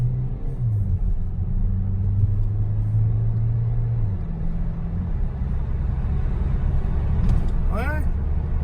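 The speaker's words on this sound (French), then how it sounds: "Dès que c'est mouillé, c'est ça le reproche, c'est que ça patine direct." A car's wheels spin on a wet road under hard acceleration, a loud rumbling engine rising and falling in pitch, with a brief chirp near the end.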